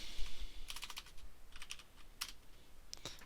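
Typing on a computer keyboard, a few quick clusters of sharp clicky keystrokes separated by short pauses, close and fairly quiet with no talking.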